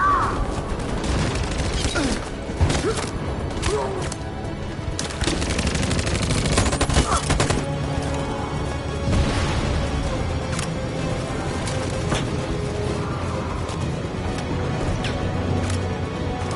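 Rapid gunfire and bursts of automatic shots crackle continuously in the video game Detroit: Become Human, with booms and crashes mixed into a dense, loud battle soundscape; a voice shouts briefly over it.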